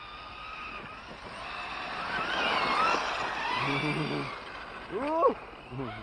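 A Hobao RC truck on a track, its motor whining and tires skidding as it takes a corner very fast, the sound rising and fading at mid distance while people talk nearby.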